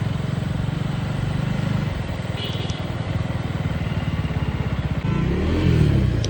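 A motorcycle rolls slowly into the City Centre 2 parking area in Kolkata, its engine chugging in a close, steady, throbbing pulse. The tone shifts near the end as the bike settles. No voices are heard.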